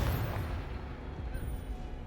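A Confringo explosive spell goes off in Hogwarts Legacy: a heavy, low booming blast whose rumble rolls on steadily for about two seconds.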